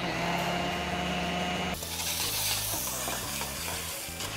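Stir-frying in a pan with curry powder and onion scraps, a loud continuous sizzle with scraping and tossing sounds, growing brighter and harsher partway through.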